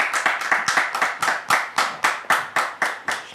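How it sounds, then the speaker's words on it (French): Audience applause greets a pastor named David: a steady run of close, crisp hand claps from a crowd, fairly even in rhythm and alone without talk. "recevoir le pasteur David sous vos applaudissements"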